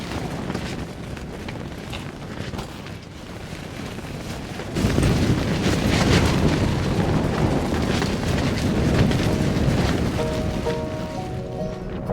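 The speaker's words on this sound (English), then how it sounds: "I hope this wind stops." Strong wind roars steadily outdoors in the Alaskan wilderness, buffeting the microphone with a loud, continuous low rumble that swells and grows heavier partway through, with no talking.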